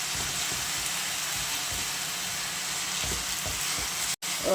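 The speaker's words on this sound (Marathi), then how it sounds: "यामध्ये असं छान परतून घ्यायचं आहे" Ground masala sautéed in oil with potato and taro leaves, a continuous close sizzle with soft periodic stirring scrapes throughout, no voices.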